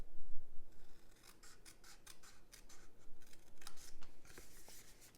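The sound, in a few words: scissors cutting off a paper corner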